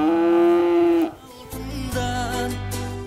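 A dairy cow on a village farm in Kyrgyzstan's Alai district gives one loud, close moo lasting about a second, followed by quieter, lower lowing and rustling farm noise.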